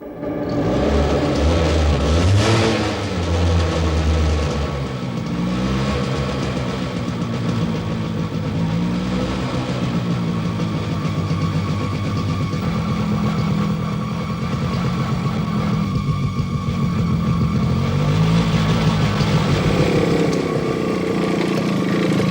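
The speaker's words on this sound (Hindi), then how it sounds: "तुम मोटरसाइकिल लेकर जाओ और सारे एरिया का अच्छी तरह से चक्कर मारो" A motorcycle engine runs steadily and loud for over twenty seconds, revving up at the start as the bike is ridden away, with a constant droning hum and slight rises in pitch near the end.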